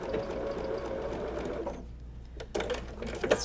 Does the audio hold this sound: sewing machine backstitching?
yes